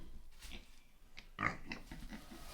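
Pigs grunt and snort softly nearby, a few low snuffling calls with one louder squeal-like grunt in the middle, no talking.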